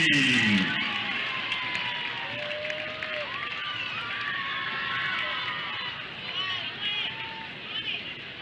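A crowd at a high school football game cheers and hollers for the Springdale High School cheer team, a broad roar with whoops and shouts that fades after the first second into lingering babble.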